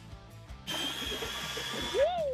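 A motorized ice auger drills into lake ice on Lake Mille Lacs, Minnesota, whirring steadily for about a second and a half, loud and close, ending as the motor revs up and winds down.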